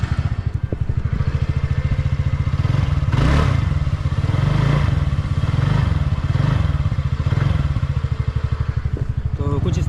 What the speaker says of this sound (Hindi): इसका सुनाता हूँ एग्जॉस्ट। तो देख लीजिए किस तरह की इसकी आवाज़ है।